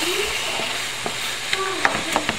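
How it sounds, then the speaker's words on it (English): Ground beef sizzles in a pan while a utensil stirs and breaks it up, a close, continuous fry with several short scraping knocks of the spoon against the pan. "I like to constantly keep stirring it because it's a lot easier to break the beef while it's not fully cooked"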